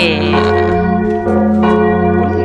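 Resonant carillon bell tones in Minecraft ring out loudly and continuously, layered strikes sustaining into one another.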